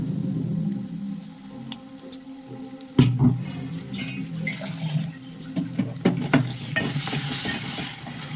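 Tomato paste added to boiled potatoes cooking in a pan for fenugreek aloo, with a sharp splash-like hit followed by steady sizzling and repeated scraping and stirring close up.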